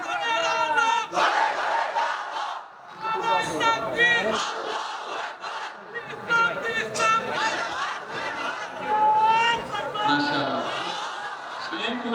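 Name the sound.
crowd chanting takbir, Allahu Akbar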